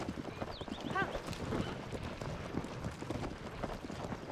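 A horse in Zelda: Tears of the Kingdom moves along at a steady hoof-beat pace with a quick neigh early on, under a talking voice.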